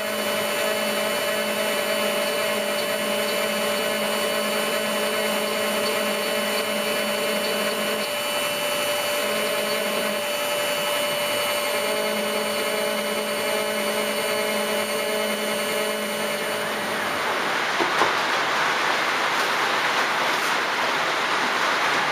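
A CNC router rough-cutting a commemorative plate with a ball-nosed cutter gives a loud, steady whine and hum with constant tonal layers, shifting in character near the end as the cut finishes.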